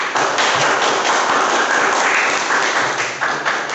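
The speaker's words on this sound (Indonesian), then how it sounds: "Aplaus untuk kelompok 3" A classroom full of students applauds a presenting group, a dense, steady clatter of many hands clapping together for about four seconds without a pause.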